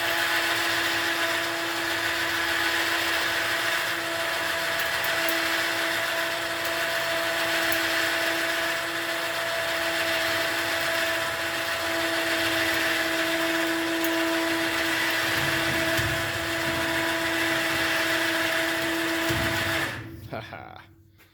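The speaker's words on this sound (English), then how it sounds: "give her a little more lift with the winch" A winch hoists a heavy load during repair work on an IH 3588 tractor, giving a steady mechanical whine with constant tonal hum that runs near and loud for about twenty seconds before cutting off abruptly.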